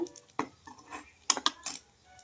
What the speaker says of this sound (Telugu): ఉల్లిపాయలు పచ్చిమిరకాయలు కూడా వేసుకుంటున్నాను